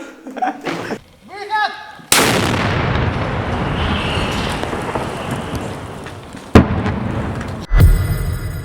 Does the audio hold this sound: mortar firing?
yes